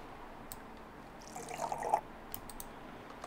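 Liquid poured in the Cooking Simulator video game while making tomato soup, a short soft splashing pour lasting about half a second, faint and close, with light clicks around it and no talking.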